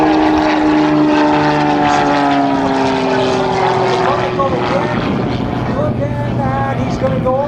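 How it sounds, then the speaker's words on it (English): A propeller aircraft flies a hammerhead stall turn at a Golden Age air show: a loud, close engine drone whose pitch slides downward and shifts as the plane pulls up and pivots. "There's the rudder kick. It's the hammerhead stall turn."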